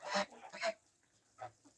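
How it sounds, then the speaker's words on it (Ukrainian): Geese in a snowy winter farmyard honk close by in three short, loud bursts with brief pauses between them. "дивіться, наші гуси"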